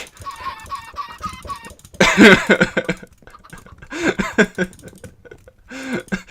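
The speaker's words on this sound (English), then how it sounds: "I hate the bloody baby chickens because they move so freaking fast." Baby chickens in the Minecraft video game give a quick run of short, high clucks, followed by louder, scattered squawking bursts and clucks with gaps between them.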